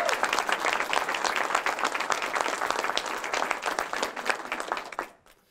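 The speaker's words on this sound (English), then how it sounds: "if you please give them applause, I'd appreciate it" An audience applauds museum staff at a quilt debut event, a dense, steady clapping from many hands that carries on loudly for about five seconds before quickly dying away.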